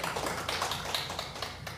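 Scattered light clapping from an audience at a formal economic forum panel, a steady patter of overlapping hand claps at moderate level with no talk over it.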